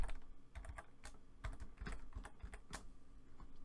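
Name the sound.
typing a coupon code on a computer keyboard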